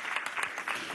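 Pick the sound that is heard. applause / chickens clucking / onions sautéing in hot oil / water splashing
applause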